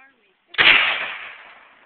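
A large-caliber firearm chambered for 7.62 fires a single loud, close gunshot with a sharp crack and a rumbling tail that fades over about a second, heard alone.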